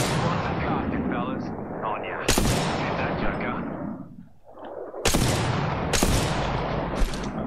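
Gunfire in the battle royale game Apex Legends, loud bursts of rapid weapon fire with several sharp heavy shots cutting through and a brief lull midway, with players talking over it.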